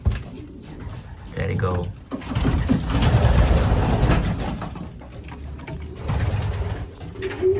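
Racing pigeons coo in soft, repeated throaty calls at close range around a loft, mixed with fluttering and handling noises while a person speaks briefly.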